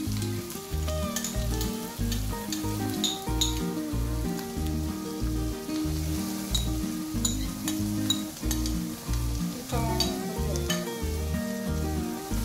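Onions sizzle steadily in a hot pan for a spinach and lentil curry, with a spoon stirring and clinking throughout and music playing underneath.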